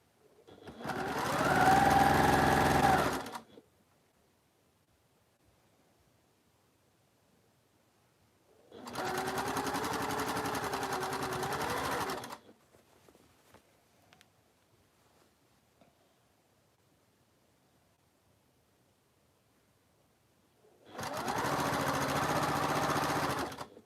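A sewing machine stitches quilt seams while piecing the centre of a double carpenter's star quilt, running in three separate bursts of steady whirring, each a few seconds long, with quiet pauses in between.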